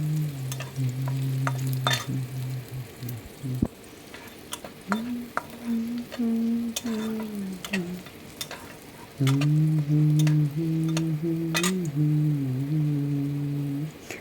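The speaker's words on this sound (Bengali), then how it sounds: "এই রসুনটাকেও আমি একটু ভেজে নিচ্ছি।" Whole peeled garlic cloves fry in oil in a wok, a steady close sizzle with occasional stirring scrapes and crackles, laid over a low, wavering tonal hum that drops out briefly partway through.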